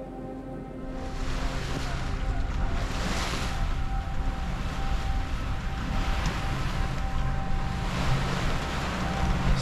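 Ocean waves wash steadily around a sailboat heading out from the Faroe Islands toward Iceland in light wind, a continuous broad rush with gentle swells and some wind noise on the microphone, with no talking.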